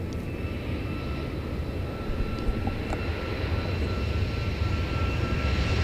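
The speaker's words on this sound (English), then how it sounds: "This is going to Frankfurt. It's a 747-8." A Boeing 747-8 jet bound for Frankfurt sits at Seoul airport, giving off a steady, loud engine roar and whine that rises slightly toward the end, with no speech over it.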